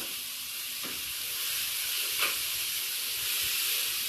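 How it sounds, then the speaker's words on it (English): Chicken pieces sizzle steadily in hot frying oil, a constant crackling hiss with a few brief louder pops and stirring sounds, no talking. "Y'all hear that sizzle"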